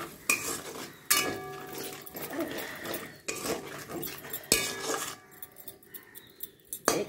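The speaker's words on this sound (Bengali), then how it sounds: "দিয়ে জলটা দিয়ে একটু আবার কষাতে থাকবো।" Spice paste for a potol paneer curry is stirred and fried in a pan with a little added water, a spoon scraping and clinking against the metal in repeated close strokes with a soft sizzle underneath.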